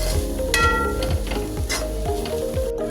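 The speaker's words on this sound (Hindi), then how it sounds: "अब अच्छे से हमने इसे चम्मच से बिल्कुल मिक्स करना है पूरी तरह" A spoon stirs keema and onion for samosa filling in a frying pan, giving a loud continuous sizzle broken by repeated scraping strokes in a steady rhythm, with no voices.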